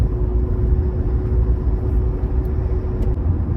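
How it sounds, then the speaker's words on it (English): Steady broadband roar inside a 1990 Mercedes SL300 R129 roadster at speed, wind rush blending with low road and engine rumble, continuous and fairly loud with no talking. "I'm noticing a distinct wind noise as I pick up speed"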